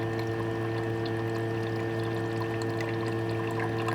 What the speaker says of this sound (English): you keep rinsing this until you don't see any more of this brown color coming off